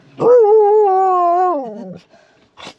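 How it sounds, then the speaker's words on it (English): A dog half out of a truck lets out a long, close, loud whimpering howl that slides downward, followed by a short yip. "Yes, that dog is out, half out of the truck."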